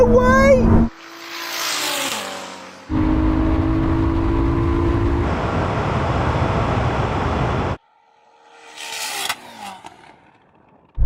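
Engines roar in a drag race between a 3,000hp SUV and a Ferrari SF90: loud sustained acceleration with gear-change shifts and brief tire noise, dropping to quieter passes and a distant whoosh near the end.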